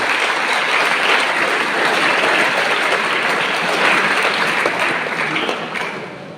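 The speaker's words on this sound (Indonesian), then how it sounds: "Tepuk tangan buat kalian semua." Seminary students in Kisol applaud steadily after a governor's speech, a loud, dense crowd clapping that holds for the whole stretch and eases slightly at the end.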